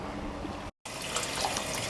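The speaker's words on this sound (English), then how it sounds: "I'll show you the water that's coming out the system." Water gushing out of a central heating system during a power flush, a steady broadband rush outdoors that cuts out briefly near the middle before flowing on at the same strength.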